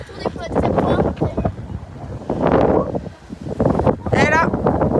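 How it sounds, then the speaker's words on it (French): Strong wind buffets the microphone at Gibraltar, roaring in continuous gusts that swell and ease, with a voice speaking over it. "il y a beaucoup de vent aujourd'hui"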